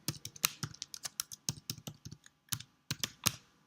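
Fingers type on a computer keyboard to enter a username in office management software, a close, crisp run of uneven clicking keystrokes with short pauses, heard alone without talk.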